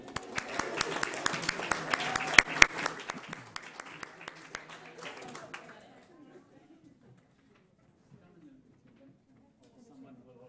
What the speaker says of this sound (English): a round of applause for the two faculty that are here.